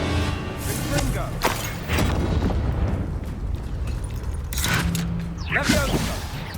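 Confringo fire spell blasts in Hogwarts Legacy combat, several loud bursting booms and crackling impacts spread across the moment, mixed with battle noise and a brief voice.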